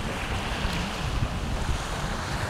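Ocean waves and wind at Saunders Beach in Nassau, Bahamas make a broad, continuous wash of surf, with buffeting wind noise against the microphone and no voices.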